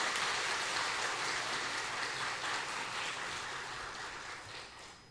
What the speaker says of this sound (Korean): 우리 인사하실 때 환영의 박수 크게 한번 하시죠